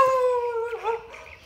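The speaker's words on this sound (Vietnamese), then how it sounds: "Hai bên đều có chó sủa rất là an ninh." A dog on a residential land plot in Bàu Chinh, Ba Ria-Vung Tau, Vietnam, gives a single loud, close, drawn-out howl that wavers and breaks into whining yelps.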